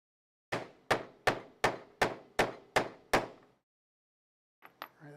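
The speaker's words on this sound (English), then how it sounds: "We just line it up, give it a little tappy tap." Metal tool tapping a part into place during a Casadio Unimog kit build, eight sharp evenly spaced taps in a steady rhythm, close and loud, then a pause and a few softer knocks.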